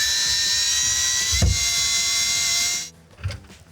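A power drill with a Phillips bit drives a screw tight while a reverse osmosis filter system is installed under a sink. A steady, loud high whine runs for nearly three seconds, then cuts off, leaving a few faint knocks.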